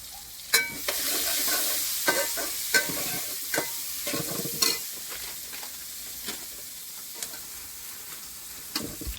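Onions and green chillies sauté in a pan, a low steady sizzle punctuated by repeated sharp spatula scrapes and knocks at an uneven rhythm, close by, with no talking.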